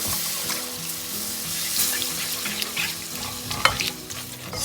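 Cold milk being stirred into a mixture in a pan on the stove over low heat gives a soft continuous sizzle and liquid swirling, with scraping and a sharper clink near the end.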